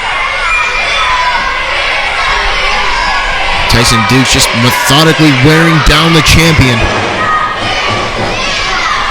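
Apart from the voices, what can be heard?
wrestling crowd chanting "Fear the Beard"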